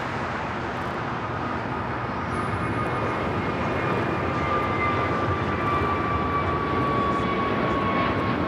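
An airliner takes off from runway 25 right at LAX, a steady broad engine roar holding loud and even throughout, with a faint high whine running above it and no talk.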